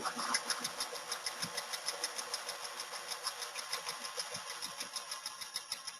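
Quilting sewing machine basting a quilt top through batting and backing, a steady fast mechanical stitching whir with a regular rapid pulse, close and continuous throughout.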